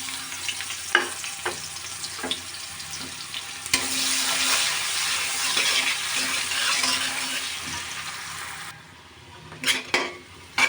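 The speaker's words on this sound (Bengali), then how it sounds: "পেঁয়াজ হালকা করে ভাজা হয়ে গেছে" Chopped onion fries in a reduced amount of oil for hilsa pulao, a steady sizzle broken by metal spoon scrapes and clinks against the pan, loudest in the middle before the frying fades and sharp utensil knocks follow.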